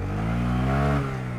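A Honda Grom motorcycle engine revs steadily off-road, a loud, close, buzzing single-cylinder tone rising slightly before easing back.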